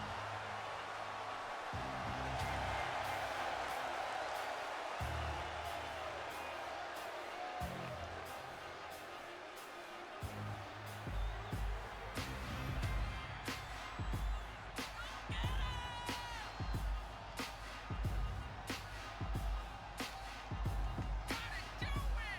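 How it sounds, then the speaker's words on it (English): Arena crowd noise from a WWE wrestling video game on PS5, a steady roar of cheering and whooping with thuds and slams over a pulsing low music bed, loud and continuous throughout. "And just listen to that crowd."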